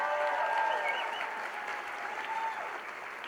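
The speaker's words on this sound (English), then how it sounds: "Yeah, we can clap for that." An audience at a school district awards celebration breaks into steady applause, a dense patter of many hands that holds at moderate volume for a few seconds, with a few faint voices mixed in.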